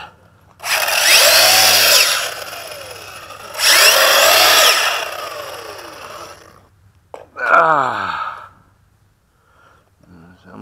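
A Hobao Hyper VSE RC car on a high-speed radar run makes two long, loud whining passes, each rising and then falling. A shorter rattling sweep follows, the kind of sound a loose tire coming off would make, and then it goes quiet.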